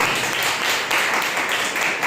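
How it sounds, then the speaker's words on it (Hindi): A church congregation at a Sunday service claps together in a loud, sustained wash of applause that holds steady throughout with a few stronger surges. "एक जोरदार ताली बजाइए परमेश्वर के लिए"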